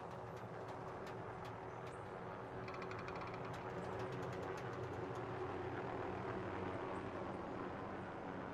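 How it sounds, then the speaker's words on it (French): Enemy helicopter in Call of Duty Warzone on the Caldera map, a steady loud rotor and engine drone that fills the whole stretch, swelling slightly toward the end, with sharp game effects clicking over it. "Hélico ennemi!"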